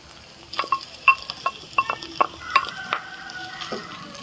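A spoon stirs thick ground coconut paste, made without water, into bitter gourd frying in a pan. The scrapes and clacks come close and uneven, about a dozen of them, over a soft sizzle with no talking.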